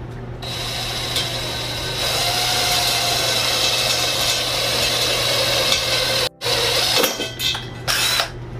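A power drill whirs steadily and loudly for several seconds, cuts out briefly, then revs in short bursts as it bores through material.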